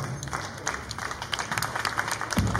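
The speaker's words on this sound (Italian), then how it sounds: "con un grande applauso l'accogliamo Laura Maria Lunardon dell'ufficio cultura." Audience applause at an emerging-music festival in Villa Clementi, Malo, welcoming a culture office staff member on stage: sustained, moderately loud clapping from a crowd throughout.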